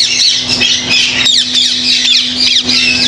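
Grey ringneck parakeets in a bird market give repeated loud, harsh squawks and chirps, close and continuous, with a steady hum behind them.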